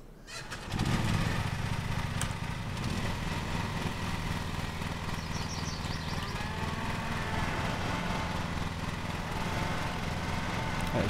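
A lawn mower engine in a lawn mowing simulator game starts up after a brief quiet moment, then runs with a steady buzzing drone at constant loudness for about ten seconds.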